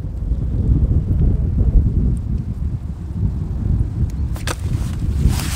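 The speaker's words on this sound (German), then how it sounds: "Oh, der Wind!" Strong wind buffets the microphone out on the ice during a December ice-fishing trip for winter pike, a steady low roar with a few brief rustling bursts near the end.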